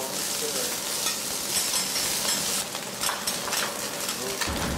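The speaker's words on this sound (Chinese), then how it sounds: "这道传统潮菜用铁板做，最难的就是把握火候以及铲子的操控" Mock shark fin with osmanthus, a traditional Chaozhou dish, stir-fried on an iron plate, a metal spatula scraping hard against the plate over a steady loud sizzle throughout.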